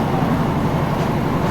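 A train running through the Scottish Highlands between Corrour and Rannoch, heard from inside the carriage as a loud, steady low rumble and hum with no clear breaks.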